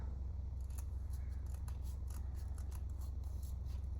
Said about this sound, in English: We're going to have to trim a tiny bit